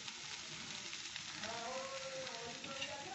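Food being cooked down in a pan for a Bengali dish, with raisins about to go in, gives a steady faint sizzle throughout with a light stirring scrape, and no talk.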